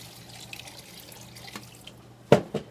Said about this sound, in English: I then am adding some purified water.